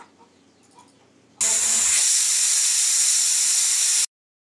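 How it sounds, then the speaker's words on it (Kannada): A pressure cooker cooking fenugreek rice lets out a loud, sustained steam whistle lasting a few seconds, cutting in sharply after quieter kitchen sounds and stopping abruptly. "ಕುಕ್ಕರ್ ಲಿಡ್ನ ಕ್ಲೋಸ್ ಮಾಡಿಕೊಂಡು ಐ ಫ್ಲೇಮ್ನಲ್ಲಿ 2 ವಿಷಲ್ ಬರೋವರೆಗೂ ಬಿಡಬೇಕು"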